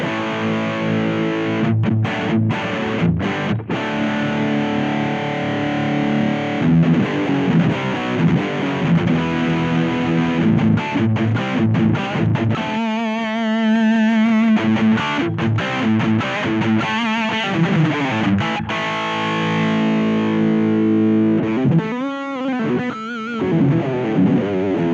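Electric guitar played through the distortion channel of a Harley Benton Airborne Go wireless modeling amp, loud sustained driven chords and riffs with a few brief gaps and choppy palm-muted bursts, no talking.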